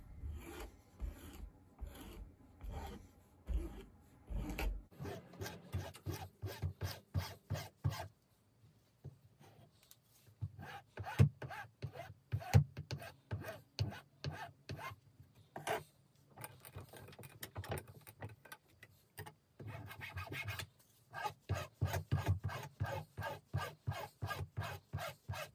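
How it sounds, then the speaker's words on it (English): Worn rubber brake blocks from a 1950 Raleigh Dawn Tourist rod-brake bicycle are filed flat: close, rhythmic rasping strokes in bursts, with a few brief pauses between runs and no talk. "They've got a bit worn and deformed, so I just need to file them"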